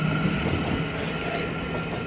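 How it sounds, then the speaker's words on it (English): A train rumbles past at a distance, a steady low roar filling the brief moment without any talk over it. "There's a train."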